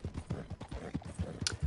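Horse hooves in Red Dead Redemption 2, a close, rhythmic clip-clop of hoofbeats striking the ground in a steady walking cadence, with no one speaking.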